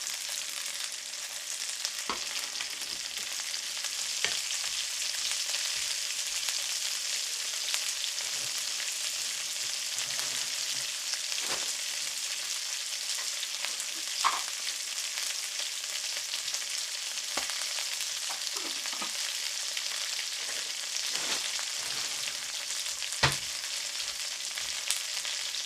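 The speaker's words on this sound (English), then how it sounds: "we're going to add fish sauce while we are sauteing this" Ginger slices, onion and garlic fry in a pan with a steady, even sizzle that runs the whole time, broken by scattered small pops and light stirring clicks, and no talking.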